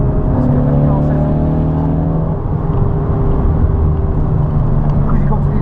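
A race car passes on the Snetterton circuit, its engine whine sliding down in pitch as it goes by, over the steady drone of the driver's own car. Voices talk over it throughout.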